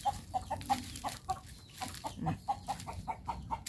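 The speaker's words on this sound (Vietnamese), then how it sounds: "gà nó nghe nó la nó sợ, gà nó nhát lắm" Free-range backyard chickens in a small Vietnamese garden cluck repeatedly in short, rhythmic bursts, close and moderately loud, with no voices.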